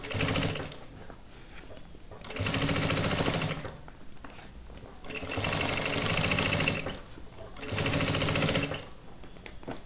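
A sewing machine stitches a child's backpack in about four loud bursts of steady whirring, separated by quieter pauses where the work is turned, with no talk over it.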